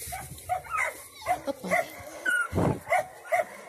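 A big dog gives short barks and whimpers indoors, repeated yelps coming close together, while someone speaks Russian in between.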